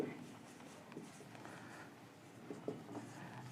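Pen or marker scratching on a board in a physics classroom during a lesson on resistance, with faint short strokes and taps at moderate distance, quiet and intermittent, with a little background murmur.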